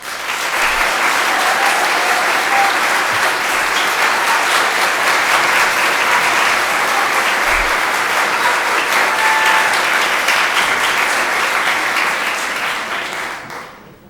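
A large audience at a Lowell school committee meeting breaks into sustained applause, a dense, even wash of clapping that holds strong for about thirteen seconds before tapering off at the end.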